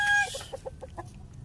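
A four-year-old hen gives a short squawk followed by a few soft, rapid clucks close by, with no talking.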